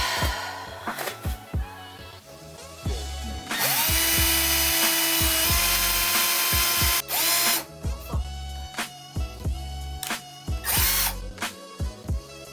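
A power drill whirs loud and close in short repeated bursts, with one long sustained run in the middle, while replacing closet doors; no one speaks.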